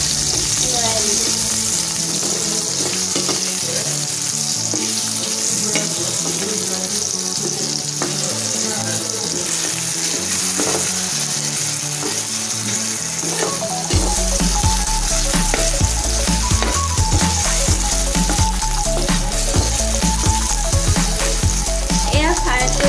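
Pointed gourd fries in a wok with a loud, steady sizzle and occasional stirring, heard under continuous background music that grows fuller in the second half.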